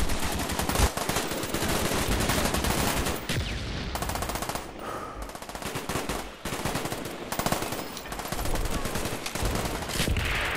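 Sustained Uzi gunfire in Call of Duty Black Ops, with dense rapid bursts running nearly the whole time and only brief pauses, loud and close.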